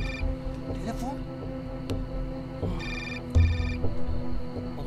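A telephone rings in short repeated bursts, a bright electronic trill over background clatter and murmuring voices.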